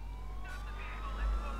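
A wailing police siren rises and falls during a car chase in Grand Theft Auto IV, steady behind a low engine rumble across the short stretch.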